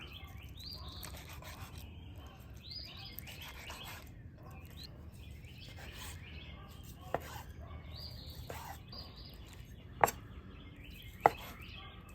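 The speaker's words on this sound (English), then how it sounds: "So we're just going ahead and basically just cut this protein." A knife cuts through salmon on a board in soft rubbing strokes, a few sharp taps standing out near the end, with birds chirping faintly in the background.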